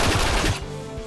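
Rapid machine-gun burst from Valentine's skill in the game Outerplane, loud and dense for about half a second, then cutting to a quieter rattling tail.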